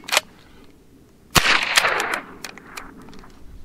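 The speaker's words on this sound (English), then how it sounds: "I'm going to go ahead and fire 3 rounds just to make sure they're going to cycle through this okay." Sharp gunshot cracks from .22 LR Federal bird and snake shotshell rounds fired at close range, with a couple of quick reports and some clattering of the action afterward.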